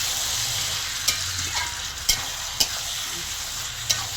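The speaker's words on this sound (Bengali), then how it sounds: "ভালো করে নাড়াচাড়া করতে হবে।" Chicken frying in a pan for chilli chicken, a constant bright sizzle with four separate spatula clicks and scrapes as the pieces are turned, nearby and unaccompanied by speech.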